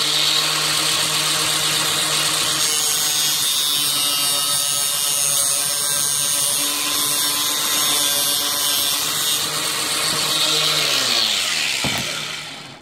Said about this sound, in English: Get the grinder, and we're going to cut right through the middle point of that insulation tape